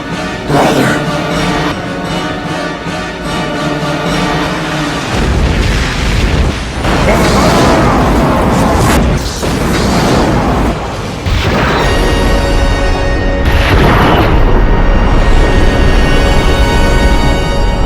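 Explosions and fireworks in a space battle, heard as a run of loud, heavy booms and crashing bursts over several seconds, with sustained music-like tones layered underneath.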